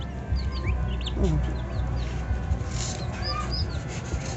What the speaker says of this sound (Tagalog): Marami-raming sisiw ito.